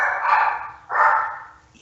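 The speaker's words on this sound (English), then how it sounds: "Sorry, that's my dog." A Shih Tzu mix dog gives two loud, close barks about half a second apart, each a drawn-out yelping bark with no talk.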